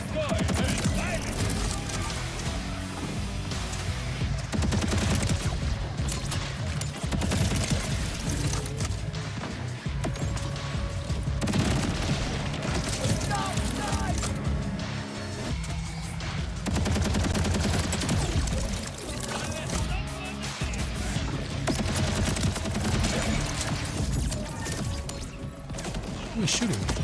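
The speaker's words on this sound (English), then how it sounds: "Who is shooting?" Heavy gunfire in Borderlands 4, bursts of shooting and impacts going on nearly nonstop for the whole stretch, loud and busy, with talking mixed in.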